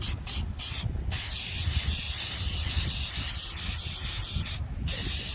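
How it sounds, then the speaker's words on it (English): Short bursts of aerosol Plasti Dip spray hiss near and steady onto a car's Chevrolet bow tie emblem, broken by a few brief pauses between passes, with no talking. "about to apply the second coat for the bow tie."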